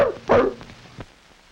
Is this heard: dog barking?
yes